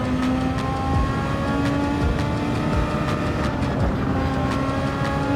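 SF23 formula car engine in Gran Turismo 7, a steady high-revving drone held throughout, loud and continuous with no talk.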